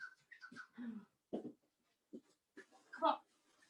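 A dog whimpers indoors in a home kitchen during a cooking session, giving a few short, high, thin whines that come and go between quiet pauses, with a person talking nearby.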